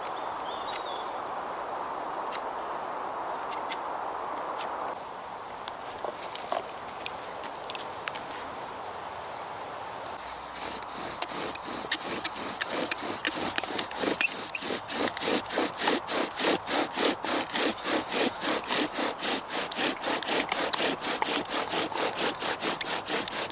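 A bow drill spindle spins against a dry spalted-wood fireboard, first as a steady rasping grind, then as fast back-and-forth strokes with a regular scraping rhythm, close and fairly loud.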